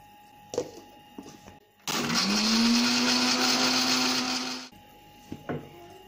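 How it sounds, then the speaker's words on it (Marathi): A mixer grinder blends ginger, green chilli and coriander with a little water into a paste, whirring loudly and steadily for nearly three seconds with a rising whine, between quiet clicks and knocks before and after. "आलं मिरची आणि कोथिंबीर हे सर्व आपल्याला वाटून घ्यायचं आहे पाणी घालायचं आहे थोडं"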